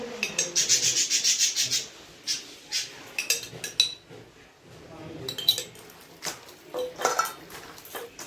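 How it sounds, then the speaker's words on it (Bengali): Mashed banana being kneaded by hand with a spoonful of ghee for Shivaratri prasad, giving soft squelching, rubbing and squishing noises in a steady run of close hand movements, with faint clinks of a dish in between. "এরপর সবটা খুব ভালো মতো করে মেখে নিচ্ছি।"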